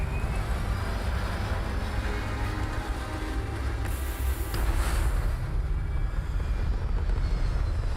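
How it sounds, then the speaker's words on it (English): Spaceship thrusters fire in Starfield with a loud, steady, broadband roar like a jet engine, swelling slightly partway through and continuing without a break. "Thrusters firing."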